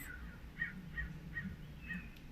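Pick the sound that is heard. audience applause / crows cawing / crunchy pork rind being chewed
crows cawing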